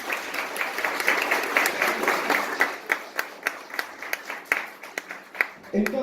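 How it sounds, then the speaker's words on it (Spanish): A church congregation applauds during a Spanish-language leadership class, a dense patter of many hands clapping steadily for several seconds before thinning out into scattered claps near the end. "Denle un aplauso a ellos y al Señor también"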